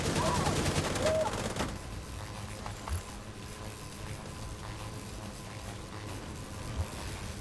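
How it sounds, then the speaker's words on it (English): Allied gunfire in a video game, bursting over the player's head while the player stays low; a dense loud volley at first, then quieter continuing rattles and scattered shots beneath steady background noise. "my allies are shooting over me"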